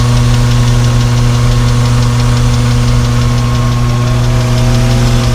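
A BMW E36 M3 track-build car with a 3.8 engine idles loudly and steadily up close, a deep even drone with a slightly rough running texture and no talk.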